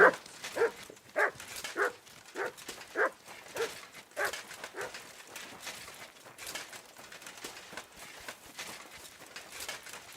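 A dog barks in a series of short, sharp yaps at an irregular rhythm, fairly close and moderately loud, thinning into fainter, scattered yips over a soft background.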